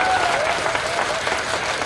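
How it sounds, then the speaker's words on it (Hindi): Audience applause fills a stand-up comedy show as a dense, steady clapping crowd sustained at close range throughout, with no pause or break. "Round of applause for yourself, एक बार अपने लिए ताली बजाएं।"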